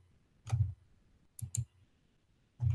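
Computer mouse clicks during screen editing work, a single click, then a quick double click, then another click, crisp and close in a quiet room.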